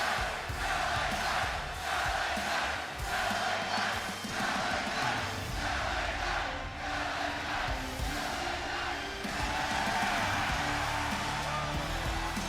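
Wrestling crowd roaring inside the Mass Mutual Center in Springfield, a smaller 1970s-style arena, during an LA Knight tag team match; a dense, steady wall of cheering and shouting fills the hall throughout.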